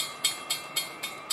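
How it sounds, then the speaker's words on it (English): A CSX or Amtrak train passes by, with four or five evenly spaced clicks and clacks of wheels crossing rail joints over a steady hum, heard from trackside. "here comes another train."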